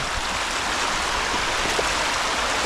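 A river rushes steadily past where people fish with a net, a continuous close, even hiss of flowing water with no pauses.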